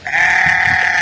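A sheep from a migrating flock near Warangal gives one loud, close, sustained bleat lasting most of a second.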